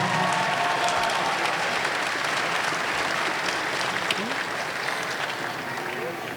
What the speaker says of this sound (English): let's give both a warm round of applause to both of these warriors in the ring